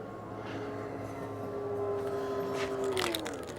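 Motorized power liftgate on a 2021 Toyota Sienna Hybrid accessible van running, a faint steady electric whine held over a few seconds and then dropping in pitch as the motor winds down.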